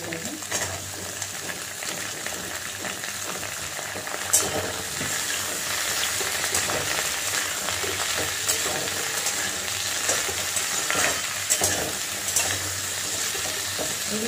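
Ridge gourd, pumpkin and pointed gourd frying on a high flame, a loud steady sizzling hiss close by, with occasional spatula scrapes and taps against the pan throughout.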